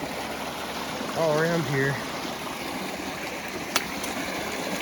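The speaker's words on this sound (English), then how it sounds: "Spring coming out. Yeah. That's a lot of water coming out." Spring water pours out of the ground and a creek flows over rocks, a constant broadband rushing wash in the woods, with someone briefly speaking over it and a short knock near the end.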